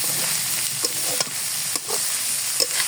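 Bitter gourd frying in hot oil with shrimp gives off a loud, continuous sizzle and crackle, with a few soft scrapes from stirring and no voices.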